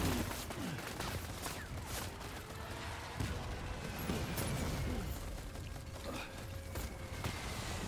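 Gunfire in the video game Death Stranding, a dense stretch of rapid shots and bursts with booms and mechanical clatter running steadily throughout, fairly loud and without talk.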